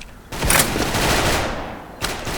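A quick burst of gunfire in the video game Special Force cracks out, followed by a decaying echo and another shot near the end, loud and close, with no voices.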